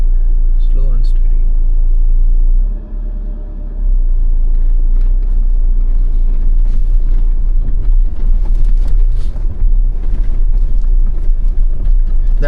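A 2025 Jeep Meridian 4x4 crawls slowly over rocks on rugged terrain, its engine a steady, close, low rumble. Rougher crunching and clatter build up through the second half.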